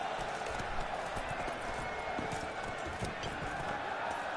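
Roach, a horse in the video game The Witcher 3, gallops with a steady clip-clop of hooves under a constant wash of game ambience, while someone speaks over it.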